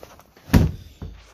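A sliding door in the bedroom of a Heartland Pioneer RV rolls shut and lands with one firm, close thunk, followed by a softer knock a moment later.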